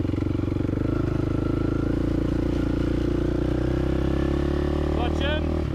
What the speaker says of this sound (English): bit of revs, and while we're driving, clutch in, kick up